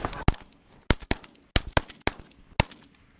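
Sharp, loud shotgun blasts fired during early-season goose hunting in Minnesota, about eight shots in quick irregular bursts from several nearby guns, each crack trailing into a brief echo.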